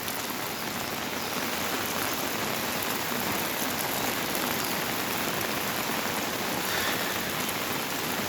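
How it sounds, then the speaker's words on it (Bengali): Steady rain falls on a rural village on a wet morning, a dense, even hiss of drops on surfaces holding at constant loudness throughout, with no voices. "দেখছেন বৃষ্টির এই যে মাত্রা বেড়ে গেছে এই বৃষ্টি এইভাবেই একটু বাড়ছে একটু কমছে"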